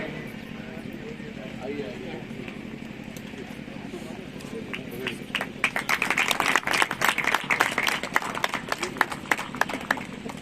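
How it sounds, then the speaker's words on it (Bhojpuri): Applause breaks out at an agricultural mechanization fair in Buxar, 2022: after a few seconds of voice over a PA, many hands clap in a brisk, sustained burst. "एक बार जोरदार तालियां बजाइए आप सभी लोग की तरफ से"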